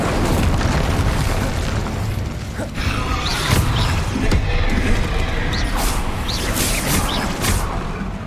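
Confringo spell blasts go off in Hogwarts Legacy amid a duel, loud and close, with repeated booms and crackling bursts over a dense clattering, mechanical din.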